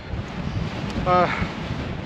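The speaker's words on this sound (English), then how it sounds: "So windy up here." Strong wind buffets the microphone on an exposed Welsh mountain summit at Pen Pumlumon, a steady low roar with a brief whistling gust near the middle and a voice faintly underneath.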